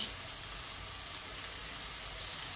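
Cabbage manchurian, restaurant style, sautéing in a pan with salt, black pepper and spring onion, giving a steady, dense sizzle throughout with no talk.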